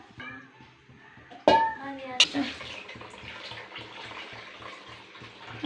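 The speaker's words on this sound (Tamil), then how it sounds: "சாந்து பத்திரத்துக்கே கழுவி தண்ணியை ஊற்றிட்டாங்க" Water splashes and runs into a pot with a sudden pour onto ground spice paste for village-style fish curry, then a steady trickling continues under soft talking in the background.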